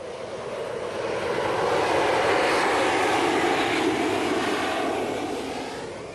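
A steady, loud military aircraft engine roar aboard the amphibious assault ship Saipan, swelling and fading slightly, with broad rushing noise and no voices.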